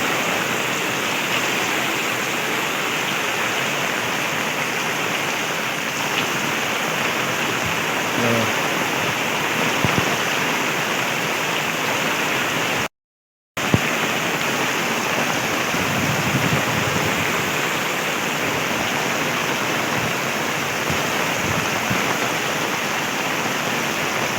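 Heavy, steady monsoon rain roars with water running off farmland throughout, a dense unbroken wash of noise with one brief dropout midway.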